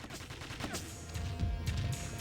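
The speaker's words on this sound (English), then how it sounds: "Those gunshots were Evo shooting at me just now" Rapid gunfire bursts from the video game Quake 2 crackle in quick succession, a dense, fairly loud fusillade lasting about two seconds.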